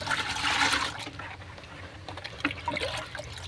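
Compost inoculum being stirred into rice water (kanji water) in a container, with a burst of sloshing, splashing liquid early on that settles into quieter trickles and a few small knocks, close by.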